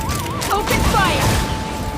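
Gunfire bursts in Genshin Impact, a dense, continuous fusillade of booms layered under game music and a voice calling out, lasting about two seconds.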